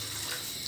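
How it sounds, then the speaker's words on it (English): Water poured into a pot for making three cups of tea, a steady soft splashing stream that runs quietly and evenly throughout. "As I want to make 3 cups of tea, I added 3 cups of water."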